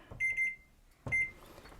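A digital kitchen timer in a home kitchen, set while bread bakes, gives two short bursts of bright electronic beeps, the first a quick run of three or four chirps and the second a brief pair, close and fairly loud in a quiet room.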